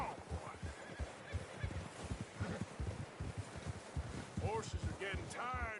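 A horse neighs and whinnies in a snowy trek from Red Dead Redemption 2, rising near the end over a steady clip-clop of hooves through snow, with faint rustling and people talking.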